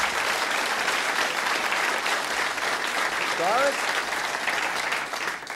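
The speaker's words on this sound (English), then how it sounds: "Everybody give her a round of applause." Studio audience applauding a guest on a 1981 television talk show, dense and continuous clapping throughout, with a brief voice near the middle.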